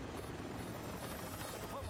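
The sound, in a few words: helicopter flying in Mission Impossible Fallout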